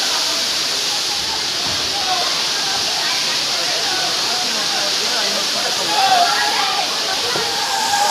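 Sirimane waterfall roars steadily and close by, a dense, unbroken rush of falling water that swells slightly toward the end.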